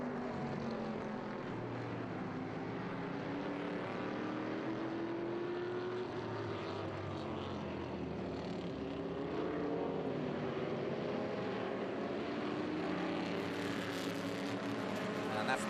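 Lotus race cars, including a 1963 Elan 26R and a Lotus 23, pass on a circuit during qualifying, their engines a sustained mid-distance drone with rising and falling pitch sweeps.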